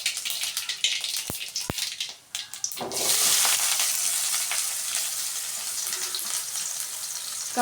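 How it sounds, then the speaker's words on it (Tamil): Mustard seeds hit hot oil in a pan for Tamil dried-fish curry, with a few sharp pops giving way to a loud, steady crackling sizzle that fills the rest of the clip. "கடுகு நல்லா பொரிஞ்சிருச்சு."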